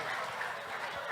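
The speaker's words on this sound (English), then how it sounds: "please clap for him" Applause from an audience at a Japan-Ghana automotive and cultural exchange launch, a brief, even wash of clapping heard close and fairly loud.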